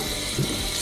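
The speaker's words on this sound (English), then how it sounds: "I think my sink is making that noise because my sprayer is messed up." Water runs steadily from a kitchen sink tap whose sprayer is faulty, a constant hissing rush with a brief low gurgle partway through, close and unaccompanied by speech.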